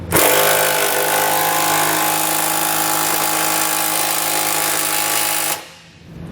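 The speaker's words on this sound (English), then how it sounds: "for the larger 1/2-inch bolts at the front here, I'm going to be using a 19mm socket" A power tool, likely an impact wrench, runs loud and steady for about five seconds, driving a 19mm socket onto 1/2-inch trailer hitch bolts on a 2016 Subaru Crosstrek, then cuts off abruptly.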